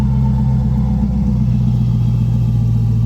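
A C8 Corvette with a failing transmission, at about 15,000 km, drives along with a loud, steady low drone inside the cabin. A sustained tonal whine sits under the engine and road rumble.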